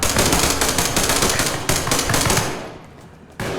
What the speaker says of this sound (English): We're getting shot at from left and right.